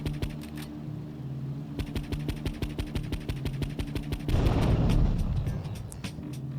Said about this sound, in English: AKA the explosion.